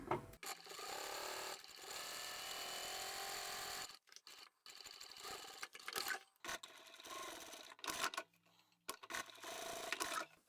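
A sewing machine stitches around a double-boxed fabric bag with boxy corners, running in steady whirring bursts broken by short pauses, close and fairly quiet.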